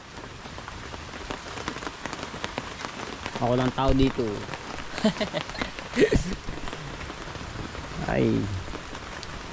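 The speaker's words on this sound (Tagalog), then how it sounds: "Sama ng panahon, umuulan." Steady rain pours down across the whole clip, a dense hiss of drops on surfaces, while a person talks and exclaims over it.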